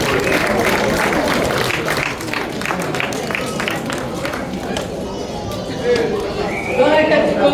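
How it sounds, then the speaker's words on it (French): Applause from the crowd at a goat show prize ceremony in Petit-Canal, steady clapping for the first few seconds, then fading under crowd noise and voices. "Je vais les applaudir."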